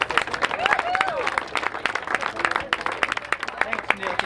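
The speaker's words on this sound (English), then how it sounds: "this is a guy that you need to clap for right here" Fans clapping at a wakeboard national championship, a scattered crowd applause of sharp overlapping claps that stays steady and fairly close, with some talk mixed in.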